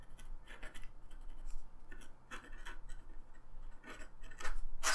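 A Swan Pens Manga Maru fountain pen scratches across paper in short, faint bursts of scratchy strokes, close up and quiet with no talking.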